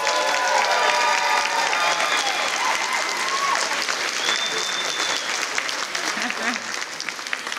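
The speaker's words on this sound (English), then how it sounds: "so we can just give them a round of applause" An audience at a West Covina State of the City dinner gives the dinner staff a sustained round of applause, a thick wash of clapping with a few scattered voices and faint whistles mixed in before it eases off.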